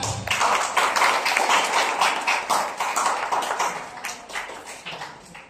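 An audience at an Ubuntu tech camp session on vision language models claps for a presenter: a dense, fairly loud burst of hand claps that gradually thins and fades over several seconds, with no talking.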